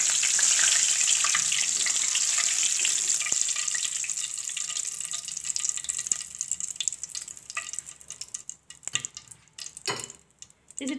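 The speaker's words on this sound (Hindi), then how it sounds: "हम इन्हें लो फ्लेम पे ही फ्राई कर लेंगे।" Chicken koftas deep frying in oil on a low flame, a close, steady hiss and sizzle that slowly thins out, broken later by clinks and stirring clatter, with no speech.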